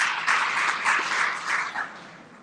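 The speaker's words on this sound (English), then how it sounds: "Give a round of applause to Steve." A live audience at a business speaker series event gives a round of applause, moderately loud and swelling in uneven waves before thinning toward the end.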